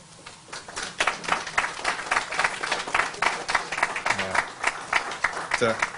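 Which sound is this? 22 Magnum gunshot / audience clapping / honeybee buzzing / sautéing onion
audience clapping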